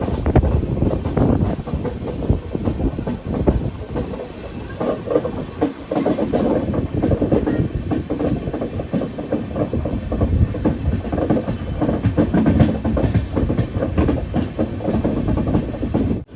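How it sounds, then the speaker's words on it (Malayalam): Mangaluru Central–Vijayapura special express train passing at close range, a steady loud rumble with continuous clickety-clack of wheels over rail joints for the whole stretch, with no talk over it. "ഇത് Mangaluru central Vijayapura special train"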